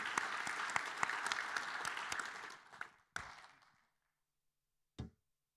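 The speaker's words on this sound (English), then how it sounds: "I think we can applaud you for this wonderful work" Audience applause after a presentation at a public health conference on eliminating chronic viral diseases, a dense wash of many hands clapping for about three seconds, then a short burst and a final brief clap before silence.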